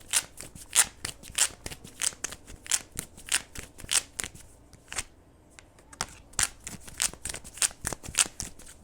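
Oracle cards being shuffled by hand, close and crisp, in repeated quick riffling bursts of sharp snaps with a brief pause midway before the shuffling resumes.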